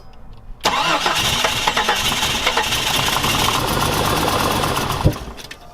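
A Jeep XJ engine on bad fuel cranks and catches after a short quiet start, then runs loud and rough with an uneven sputtering, popping idle before the noise drops off near the end.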